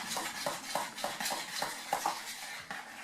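Peanut butter and honey being stirred together in a pan over low heat, with a quick, rhythmic run of scraping and clinking utensil strokes against the pan, close and moderately loud.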